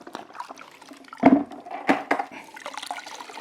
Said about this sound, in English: soak the microfiber towel in the product